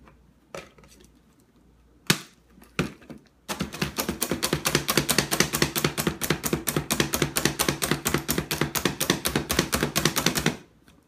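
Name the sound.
crushing Doritos chips with a masher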